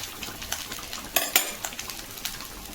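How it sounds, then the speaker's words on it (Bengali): Fried rice is mixed over low heat with other fried ingredients, a utensil scraping and clinking against the pan in irregular close strokes. Louder knocks land near the middle, over a faint background sizzle. "সব ভাজাগুলো একসাথে কিন্তু মাখিয়ে নিচ্ছে"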